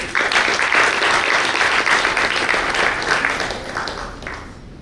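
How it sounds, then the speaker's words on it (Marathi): An audience at a book lovers' conference in Karad claps together in dense, loud applause that holds steady for several seconds, then thins and fades away toward the end. "त्या लोकांकरता एकदा टाळ्या झाल्या"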